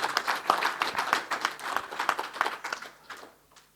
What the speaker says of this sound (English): A big round of applause to all the three on the dais.